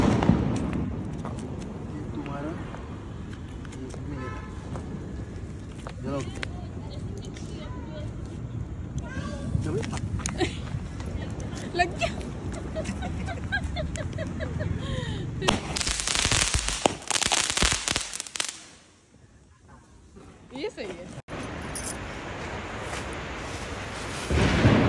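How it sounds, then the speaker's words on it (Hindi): Diwali firecrackers go off in repeated sharp bangs and pops, building to a dense burst of crackling before a brief lull, with people talking throughout. "गाइस हमारे बम पटाखे सब फूट चुके हैं"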